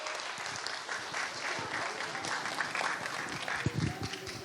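Applause from a church congregation for a child after a Scripture recitation on a children's blessing Sunday, a dense steady patter of many hands filling the room at moderate volume with no voice on top.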